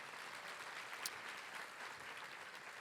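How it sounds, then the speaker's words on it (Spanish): A church congregation applauding after a prayer, a sustained, fairly even clatter of many hands clapping at a moderate distance. "Dale un aplauso al Señor"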